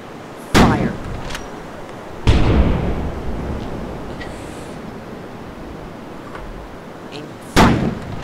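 Cannon fire in the VR naval game Iron Wolf VR: three loud, sharp booms, each with a short rumbling tail, spaced across the stretch, aimed at merchant ships over a low continuous background.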